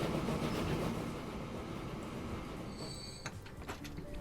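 Rolling rumble of a train in the city-building game Transport Fever 2, a steady dense roar with faint high squeals near the end and a few light clacks, no talking.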